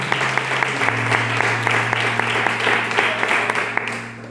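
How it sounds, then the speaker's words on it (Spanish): A church congregation breaks into loud, sustained applause during a Christian sermon, a thick wall of clapping held over a low steady keyboard or organ drone. "Pues dale un fuerte aplauso a mi Dios por los siglos de los siglos."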